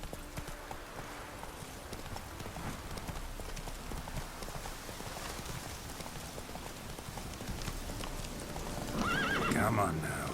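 Roach, Geralt's horse in The Witcher 3: Wild Hunt, gallops with steady hoofbeats under rain and ambient game sound, ending in a louder whinny near the close; a voice talks over it.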